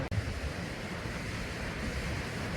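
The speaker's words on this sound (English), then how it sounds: "You can just look out on the ocean, the vast ocean, and you can hear the waves." Ocean waves at Yucca Point in Torrey Pines, San Diego, wash in a steady, unbroken surf roar with no voices.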